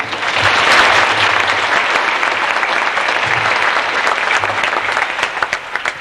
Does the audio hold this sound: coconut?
no